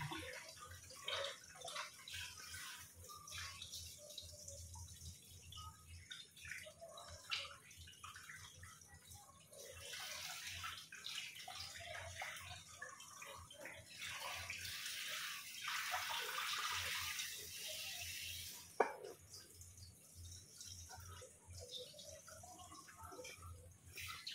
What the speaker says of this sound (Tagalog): Hugasan mabuti para maalis yung langsa.